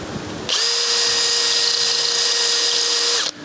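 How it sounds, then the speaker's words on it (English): A power drill whirs at high speed for about three seconds, pre-drilling a small hole in a wooden window yoke, a steady loud whine that starts abruptly and cuts off, close by. "I'm going to pre-drill it with a very small or smaller bit, smaller than the actual bolt itself"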